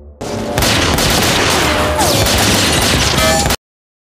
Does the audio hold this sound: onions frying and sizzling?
no